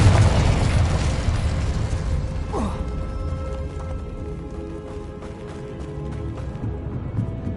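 A fiery Confringo spell explosion in the video game Hogwarts Legacy opens with a loud, close booming burst, then rumbles and crackles down to a fainter, mechanical tail.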